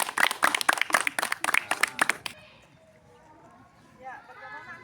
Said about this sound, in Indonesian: kalian tepuk tangan dulu dong